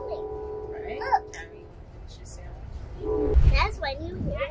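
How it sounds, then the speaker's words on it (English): A passenger train horn sounds in a long, steady tonal blast, then again more briefly as the train nears and a low rumble swells; people talk over it. "And now you hear the horn. It means everyone get attention. Train is coming."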